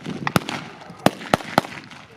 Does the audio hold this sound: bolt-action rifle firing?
yes